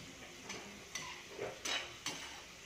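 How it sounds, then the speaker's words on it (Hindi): Potatoes sizzle in oil in a pan, steady frying hiss punctuated by several sharp scrapes and clinks of a utensil stirring at roughly half-second intervals, with no talking. "तो हमारा आलू अच्छे से फ्राई हो गया है।"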